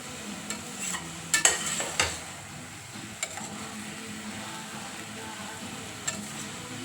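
Mushroom masala for a veg biryani stirred slowly in a pan, a soft continuous scraping with a few sharper clinks of the utensil against the pan over a low sizzle, close and unaccompanied by speech.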